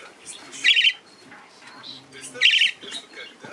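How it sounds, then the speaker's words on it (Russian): Pet budgerigars give two loud chirping bursts about two seconds apart, with softer twittering and chatter between them, heard up close indoors. "Поют мне птички песенки"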